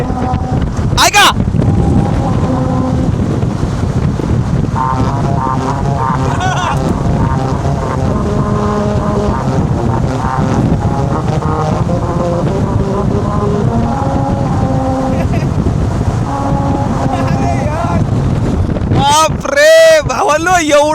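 A car rolls over a musical road in Mumbai, the grooved surface sounding a sustained tonal melody of distinct pitched notes over steady engine and wind rumble, with excited voices talking over it and a loud whooshing pass near the end.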